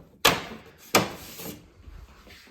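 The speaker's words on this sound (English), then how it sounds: "Close the door" Built-in Bosch TCC78K750 coffee machine door being shut, two sharp knocks about 0.7 seconds apart followed by a short fading rattle, close and fairly quiet.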